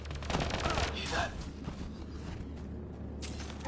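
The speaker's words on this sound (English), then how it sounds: "They shot him!" Gunfire in the Mass Effect Andromeda video game: a loud burst of rapid shots and clattering up front, then quieter scattered fire and ambient rumble, with a voice faintly present.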